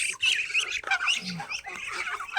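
Pet ducks fed chopped banana and leftover rice give busy, overlapping squawks and quacks, close and fairly loud throughout.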